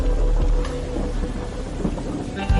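Heavy rain pours steadily while thunder rumbles low and loud beneath it, a dense continuous downpour with deep rolling booms throughout.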